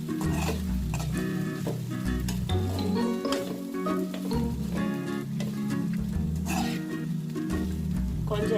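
Poha being stirred and mixed in a pan, with continuous scraping and sizzling over a steady low rumble and busy background, no clear strokes standing apart.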